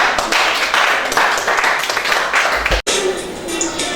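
A classroom group claps together during a teaching session, a loud, dense burst of hand claps lasting a few seconds, broken by a brief cut before more noisy clapping continues.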